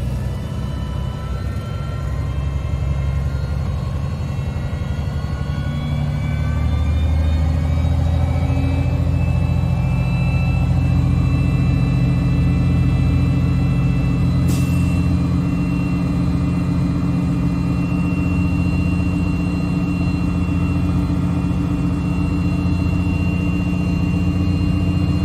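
A Terminator fire truck pumper runs with its pump engaged in first gear, a steady loud engine drone with layered harmonic hum that rises slightly in pitch partway through and holds continuously, with no talking.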